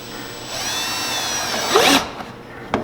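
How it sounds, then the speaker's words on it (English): A power drill whirs loudly and close, boring holes for an air intake relocation kit on a Can-Am Maverick X3, a steady whine for over a second before winding down, followed by a small clatter. "So what we gotta do now is drill it."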